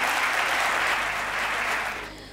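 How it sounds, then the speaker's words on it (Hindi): Dense, loud applause from a large audience at a Hindi comedy and poetry stage show, steady and sustained for about two seconds before thinning out near the end. "जोरदार तालियों से आप स्वागत करें"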